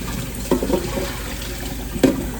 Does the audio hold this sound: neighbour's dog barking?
no